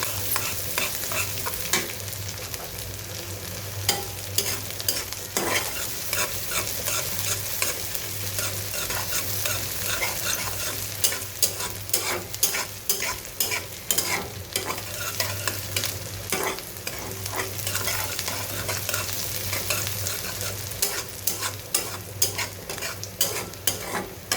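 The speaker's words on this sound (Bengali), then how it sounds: "পেঁয়াজটা লাল লাল হয়ে যাওয়ার আগ পর্যন্ত ভালো করে ভেজে নেব" Onions fry in mustard oil with panch phoron for a sour mango dal, a loud continuous sizzle under busy, rhythmic scraping and stirring of a spatula against the pan, close up and without talk.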